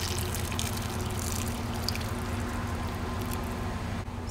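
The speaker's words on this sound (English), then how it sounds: "Put your potatoes in and cover it with hot water." Hot water pours steadily into a soup pot of potatoes for leek and potato soup, a continuous close splashing fill with no talking.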